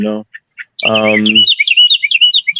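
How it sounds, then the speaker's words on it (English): Small birds chirp and tweet in quick, repeated bursts close to the microphone, following a stretch of voice at the start. The calls are loud and continuous, forming a busy background during a podcast conversation. "I know the birds in the background is crazy"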